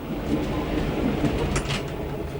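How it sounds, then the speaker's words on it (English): A vintage rail train out of Melbourne's Flinders Street Station rumbles along steadily, a close, continuous low roll of wheels on track with faint rattling and a brief higher squeal. "we've had a delightful trip on the train, the vintage rail train from Melbourne, from Flinders Street Station"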